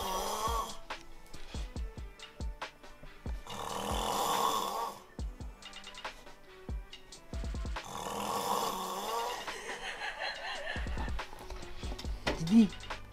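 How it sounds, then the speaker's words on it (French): Loud snoring heard nearby comes in long, rhythmic rasping breaths that repeat several times, with short sharp knocks in the gaps between. "T'arrives à survivre avec ces ronflements?"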